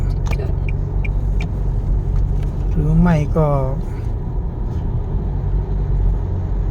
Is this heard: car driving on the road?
yes